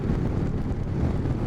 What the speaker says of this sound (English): we've got pretty decent winds coming around right now